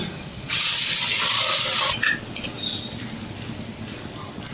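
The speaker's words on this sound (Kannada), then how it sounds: "ನೀರು ಹಾಕ್ಬಿಟ್ಟು ಒಂದು ಕುದಿಸ್ಕೊಳ್ಳೋಣ" Water pours into a pot of drumsticks, a loud steady gush for about a second and a half, followed by fainter splashes and clinks.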